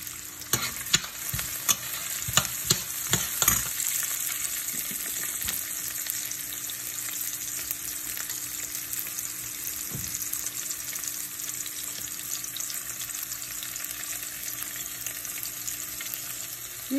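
Onions and garlic sauté in a pan with a steady close sizzle, while a few sharp utensil scrapes and knocks come at the start as the pan is stirred, then it settles into an even fry with no talking.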